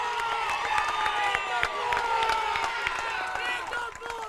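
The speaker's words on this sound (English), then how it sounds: "You can hear the home crowd fired up" Home crowd at a Chapman softball 4A regional game cheering and clapping after a strikeout with the bases loaded, a sustained mix of shouts, whoops and applause heard from the stands.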